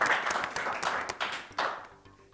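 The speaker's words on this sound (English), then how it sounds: "Let's give him a round of applause." Short burst of audience applause at a children's spelling quiz show, a few uneven clusters of claps that fade quickly over about two seconds.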